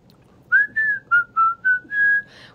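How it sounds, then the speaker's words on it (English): A person whistles a short tune close up, six clear notes, the first five brief and evenly spaced and the last one held longer, alone with no talk. "I do know how to whistle."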